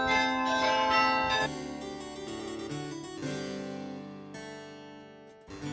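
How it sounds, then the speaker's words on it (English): Bells in a Bruges bell tower chime four o'clock, several resonant tolls ringing out one after another with long decaying tones, fairly clear and alone without voices. "the clock hit 4, so we were able to hear the bells chiming"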